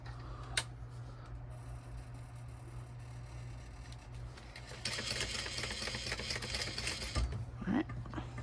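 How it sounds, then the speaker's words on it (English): A sewing machine stitches backpack fabric with blue thread in a steady run of rapid mechanical ticking over a low motor hum, growing louder and busier partway through, with no talking. "I'm going to just stitch it down right here"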